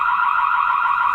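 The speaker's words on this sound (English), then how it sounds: "activate the alarm" A loud, steady electronic alarm siren from an X11 smart WiFi security camera blares continuously, shrill and unbroken, with no voices.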